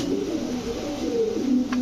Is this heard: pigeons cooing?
yes